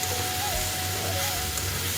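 Okra bhaji with coriander leaves being stirred in a pan, giving a steady close, even sizzle and hiss with no pauses.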